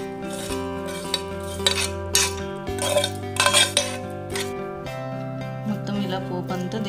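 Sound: pouring tempering over sandwich dhokla

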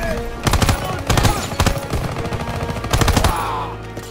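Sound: gunfire in video game Call of Duty: WWII

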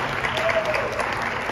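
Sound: audience applause for the panel

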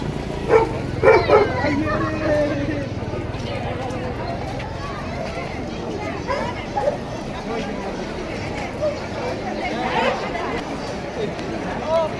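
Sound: German shepherd bomb-detection police dogs barking

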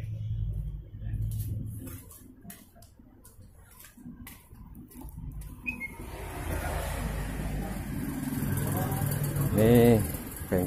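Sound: Ruggerini 550cc engine running

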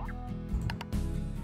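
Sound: painted chickens clucking in video game Slime Rancher

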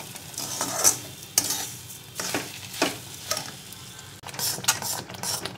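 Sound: mixing sugar into hot khoa in a pan

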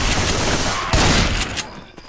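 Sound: gunfire in video game Left 4 Dead 2

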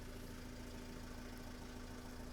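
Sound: diesel van engine idling

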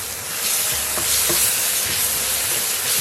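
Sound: blended garlic and ginger paste frying in pan

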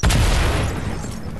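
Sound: explosions blowing through a tower in video game Fortnite

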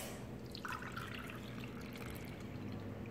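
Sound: milk being poured into dough for cornmeal bread rolls

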